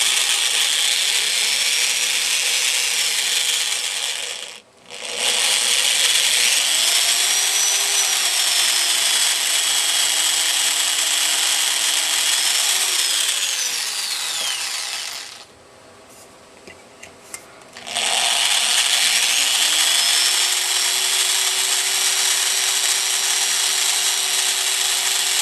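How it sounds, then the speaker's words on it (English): A power drill whines loudly and steadily, its pitch shifting as it bites into aluminum for a propeller spinner, pausing briefly twice before running on again. "You need to have you some oil on hand because you are drilling aluminum."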